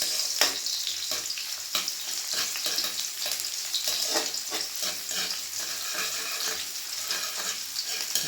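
Onions frying in a pan, a steady close sizzle with crackling bursts and occasional stirring, alone without speech.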